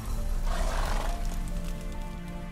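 Roach, Geralt's horse in The Witcher video game, gives a close, loud neigh that peaks early and fades into a steady game ambience.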